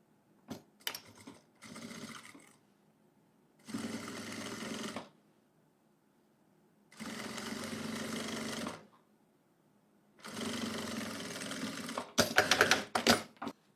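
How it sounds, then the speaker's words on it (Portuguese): Sewing machine stitching cotton bias binding onto lace, several bursts of rapid mechanical whirring and clatter separated by pauses, close and clear with no talking. "vou seguindo aqui o desenho da minha renda e vou costurar."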